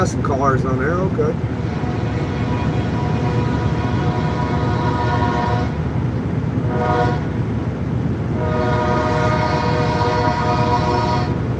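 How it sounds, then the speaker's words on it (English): A train rumbles past loudly and continuously, its horn sounding with steady harmonic tones at the start, again briefly midway, and toward the end. "I hear a choo-choo train."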